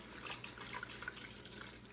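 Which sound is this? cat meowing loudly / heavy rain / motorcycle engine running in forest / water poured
water poured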